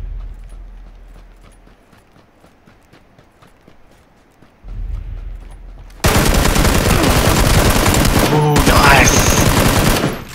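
Gunfire in the video game PUBG: after a quiet stretch of faint taps comes a thump, then loud, dense automatic fire that runs for several seconds, with a brief gap and a ringing tone partway through.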